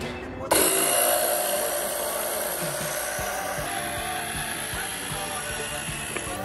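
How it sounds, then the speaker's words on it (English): An oil pump extractor pulling engine oil out of a Sea-Doo GTX jet ski runs with a steady, loud mechanical whine and hum that starts abruptly and holds constant throughout. "I'm using this oil pump extractor"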